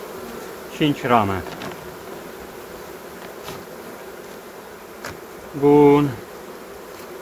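Honey bees at a hive colony, packed into their nest for winter after an amitraz treatment, hum as a steady low insect drone throughout, with brief speech in two spots.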